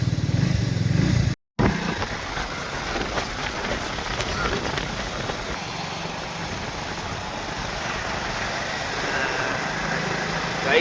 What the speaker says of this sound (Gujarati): બાઇક લઈને ચાલુ થઈ ગયું ને હવે નીકળીએ